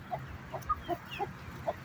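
A broody hen makes a series of low, throaty clucks and short grunting calls, spaced irregularly and fairly close, with no talking.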